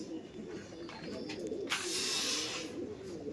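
Andhra Kalshira pigeons at a bird sale coo softly and repeatedly nearby, with a brief hissy burst in the middle and a low murmur of background noise.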